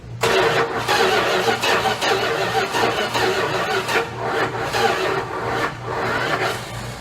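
A Dodge Dart engine with a weak battery cranks on a charger boost, a close, fast, rhythmic churning that continues for several seconds without catching.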